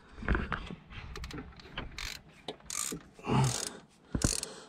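A ratchet wrench works a 12mm bolt on the manual gearbox of a 2.4 non-turbo Volvo V70, making close, bursty clicking ratchet runs with short pauses and metallic knocks between strokes.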